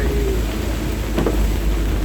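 Heavy rain pours steadily in a Philippine barangay, a dense continuous hiss and rumble filling the whole moment with no clear gaps, close and loud.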